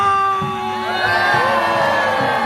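A crowd at a political gathering in Mapo cheers and whoops, with voices swelling and rising over a busy background for a few seconds.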